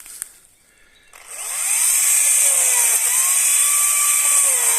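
A Makita cordless battery chainsaw starts after a quiet moment and then runs at a steady, loud, high-pitched electric whine, close by, with slight pitch wobbles as it holds speed.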